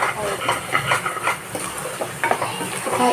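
Ingredients sizzle in a pan with turmeric for mutton curry while a utensil stirs and clinks against the pan. A voice can be heard faintly under the frying.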